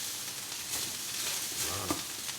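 Browned minced meat stirred into a reduced sauce in a hot pan for nachos gives a steady close sizzle with soft stirring scrapes and a brief clatter near the end.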